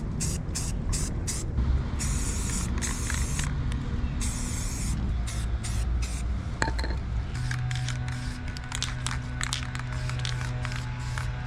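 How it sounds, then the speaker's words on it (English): Primer sprayed onto a Kei car in bursts: repeated hissing spray passes start and stop with short pauses, close and steady over a low background hum. "So now let's do the first coat of primer."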